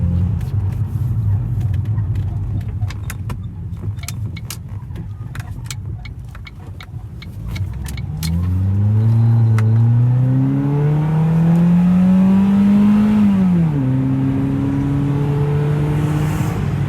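A Ford Focus with freshly replaced motor mounts idles with a low rumble, then pulls away as the engine revs rising through the gears, close and loud inside the cabin.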